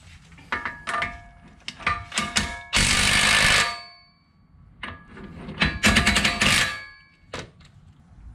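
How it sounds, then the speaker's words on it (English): An impact wrench lightly runs a CV axle nut back on at the front of a 2006-2012 Ford Fusion, with a few short rattles and then two loud, buzzing hammering bursts of about a second each, close up. "I'm just going to lightly shoot our axle nut back on with the impact, just barely get it started just to pull that in a little bit more"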